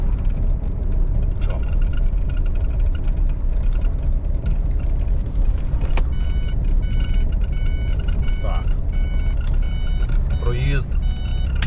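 A tow truck carrying a CLAAS Compact 30 pulls onto the Kyiv road with a constant loud engine rumble, a few thin tonal beeps and a faint voice briefly over it.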